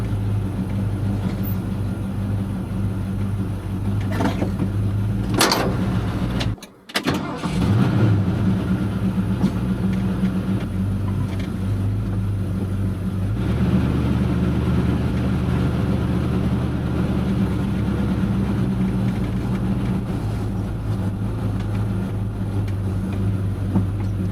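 A 1977 Ford F100 pickup on its first drive in about fourteen years, low engine rumble running steadily with a brief sharp knock and dropout partway through, then continuing loud and close.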